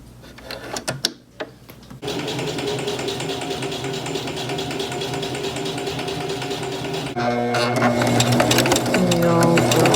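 A sewing machine stitches a fabric bag in steady, fast mechanical whirring that runs for several seconds, speeding up and growing louder near the end after a few brief handling clicks at the start.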